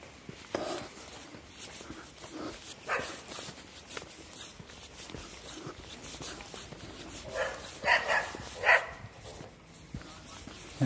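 A dog out on an evening walk in the street gives a few short barks in bursts, moderately close, mixed with footsteps and faint outdoor background noise.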